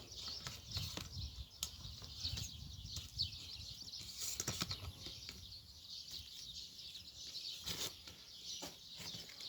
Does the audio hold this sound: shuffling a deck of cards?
no